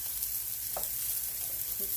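Onions sizzling on a hot grill, a steady close frying hiss with a couple of small clinks and stirring sounds.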